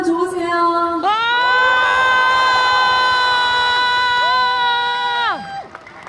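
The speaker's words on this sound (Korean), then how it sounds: "여러분 박수 함성 한번 줘보세요" Festival crowd at the Sangju dried persimmon festival, many voices rising together into a long, loud sustained cheer that holds for several seconds and then drops off; no distinct hand claps stand out.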